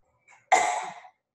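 A woman gives a single sharp cough on request during an abdominal muscle assessment for diastasis, close and clear, preceded by a faint short breath.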